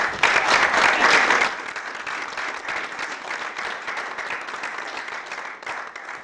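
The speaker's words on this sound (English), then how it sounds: "if everyone could also give her a round of applause" Audience at a school district annual meeting bursts into a round of applause, loud and dense at first, then settling into steadier, softer clapping that carries on for several seconds without talk.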